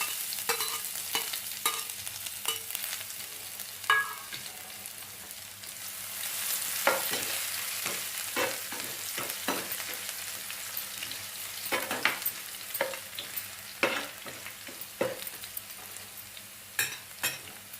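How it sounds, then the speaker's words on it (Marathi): Cumin and ginger-garlic paste sizzle in a kadai, a steady frying hiss broken by repeated scraping clicks of stirring, close and fairly quiet, with no voices. "जिरे छान फुलून द्यायचे अद्रक लसणाची पेस्ट"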